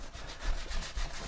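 Fine 320-grit sandpaper rubs back and forth over cured resin on a concrete sink insert in quick, rhythmic strokes, close and steady, with no talking.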